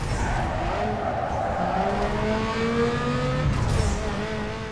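A car drifting in Need for Speed Underground 2, loud engine revving under a sustained tire squeal that bends in pitch through the slide, close and continuous for several seconds.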